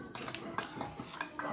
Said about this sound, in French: Voilà comment on mélange tout le semoule avec un petit peu de farine